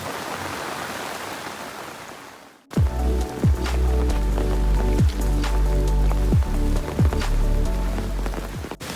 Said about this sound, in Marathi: पाऊस खूप वाढत चालला आहे